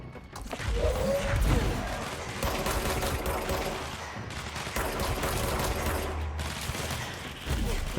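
Sustained bursts of gunfire in the video game Control, set in the Foundation during the Warehouse Ritual, run as a loud, dense fusillade throughout, with thuds and crashes mixed in and only brief lulls.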